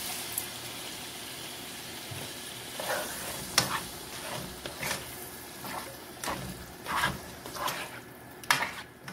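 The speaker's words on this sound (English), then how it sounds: "Now I'm going to add these crushed tomatoes." Crushed tomatoes poured a little at a time into a sizzling pot of vegan jambalaya, with a soft frying hiss underneath and irregular wet splashes and stirring clatters, close and fairly quiet.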